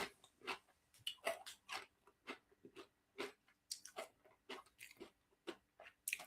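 Crunchy Takis rolled tortilla chips chewed close up, a steady series of sharp crisp crunches in an uneven chewing rhythm with no talking.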